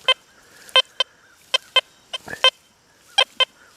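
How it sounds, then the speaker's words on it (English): A Deus 2 metal detector with an 11-inch coil, swept over a dime buried eight inches deep, gives short tonal beeps in close pairs, repeated several times, clear against quiet. "Hear that double beep?"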